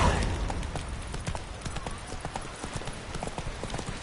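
Roach, a horse in The Witcher 3, gallops in a steady run of hoofbeats with a clip-clop rhythm. The hooves sound close and fairly loud, layered over game ambience, and no one speaks.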